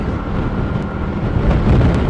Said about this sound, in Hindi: हवा इतनी तेज चल रही है ना